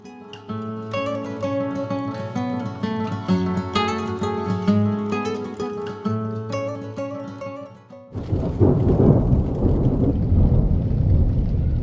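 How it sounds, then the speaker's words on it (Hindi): Music plays for several seconds, then cuts to a steady, loud hiss of heavy rain that continues to the end. "लेकिन बाहर बारिश शुरू हो गई है"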